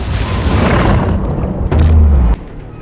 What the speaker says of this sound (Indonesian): mendapatkan jawaban dari kapalnya, Kate, akhirnya mereka pun langsung memberikan tembakan peringatan.